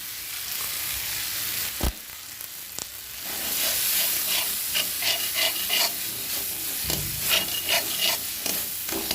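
Spices with turmeric, chili powder and cashew paste stirred in a hot pan, a steady sizzling hiss under repeated scraping strokes of the spoon, close up and continuous.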